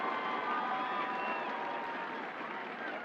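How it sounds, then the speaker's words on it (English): Stadium crowd at a Dallas Trinity FC versus Brooklyn FC women's soccer match reacting to a goalkeeper's save from a corner kick, a broad, sustained roar and applause filling the space evenly. "And the reaction of the crowd says it all"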